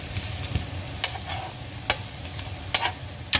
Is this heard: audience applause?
no